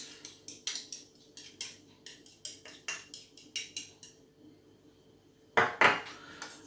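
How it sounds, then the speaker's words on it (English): A spoon clinks and scrapes rhythmically against a bowl while sweet and sour sauce of vinegar, soy sauce and tomato ketchup is stirred, about a dozen sharp taps in a steady beat, then two louder knocks after a pause. "And we'll just give that a bit of a mix."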